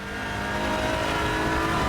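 A race car engine in the sim game Raceroom drones and climbs in pitch under acceleration, a loud steady whine that builds across two seconds with no talking.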